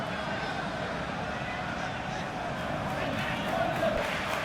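A football stadium crowd in a video game roars in a steady, far-off swell, with a commentator speaking over the noise.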